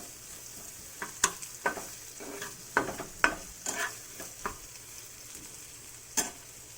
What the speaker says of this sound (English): I have left the onions in that low flame. Don't make the flame high, and we have to cook these onions until they become transparent.